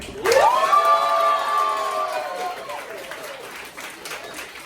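A trivia-night audience breaks into loud applause, cheers and whoops to vote for a winner, with a rising shout at the start. The noise holds for a couple of seconds and then fades into scattered clapping and crowd murmur.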